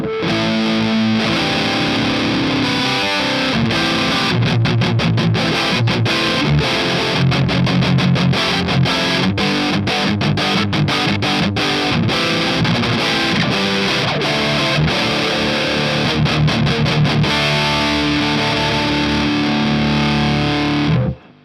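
A heavily distorted electric guitar played through a Sunless Effects Dark Ages distortion pedal plays chords and riffs continuously, thick and saturated, loud throughout before cutting off at the end.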